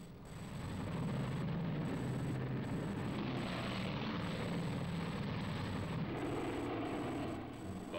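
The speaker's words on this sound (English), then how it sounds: "The last B-29 is airborne at 1540." A B-29 bomber takes off, its propeller engines producing a loud, steady, sustained roar that rises and holds throughout, with no voices.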